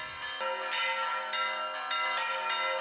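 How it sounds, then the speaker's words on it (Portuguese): Church bells in a tower in São João del-Rei ring out a lively repique peal, clanging strikes overlapping in a steady, loud, ringing rhythm with sustained tones and no talk. "O principal dentro da torre são os repiques, porque a alma do sino são os repiques"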